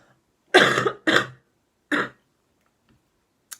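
Three harsh coughs close by, two in quick succession then a third after a pause, followed by quiet.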